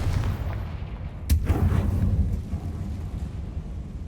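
In the Hogwarts Legacy video game, a Confringo spell explosion lands as a sudden sharp boom. A deep rumbling roar follows and then fades into a steady low background drone.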